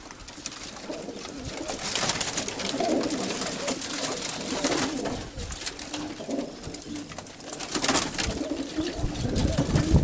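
Pigeons coo repeatedly, close and fairly loud, from Katsagogas Krokos pigeon flocks, with soft rustling and wingbeats mixed among the calls and occasional background noise.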